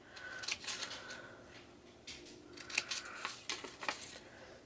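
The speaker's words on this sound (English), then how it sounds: "trim the smaller pieces from the tabs" Scissors trimming small paper pieces from tabs for a papercraft hot air balloon, a series of quiet, crisp snips in uneven bursts, close by and alone.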